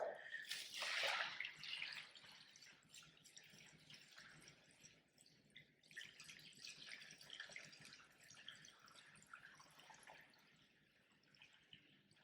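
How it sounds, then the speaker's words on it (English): Water poured into a small model ocean with landforms, plants and animals, starting with a louder splashing burst, then continuing as a quieter, uneven trickle and dripping for several seconds. "As we add our water, you can encourage your students to think about where that movement of water is occurring."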